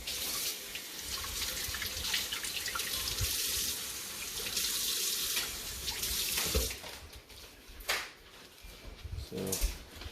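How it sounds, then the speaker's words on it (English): Tap water runs steadily into a sink to rinse sauerkraut fermentation weights, a close, continuous hiss and splash that shifts as the weights move under the stream, then breaks into a few sloshes and clinks. "Then I'm going to rinse the weights off real quick."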